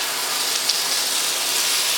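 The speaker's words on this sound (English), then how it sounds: "Okay, the spices are just starting to steam a little bit. They're bubbling, they're nice and hot." Spices sizzle in hot oil in a pan over medium-high heat while an Indian korma is cooked, giving a steady, close, broadband hiss with light bubbling and no voices.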